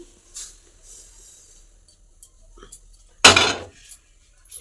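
Fried semolina tipped from a pan onto a plate: a few light metallic taps and clinks, then one loud scraping pour lasting about half a second, close in a quiet room.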